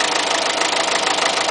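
A Ford Focus 1.6 TDCI diesel engine idling, a steady, close, loud droning hum with a faint rhythmic knock and no voices.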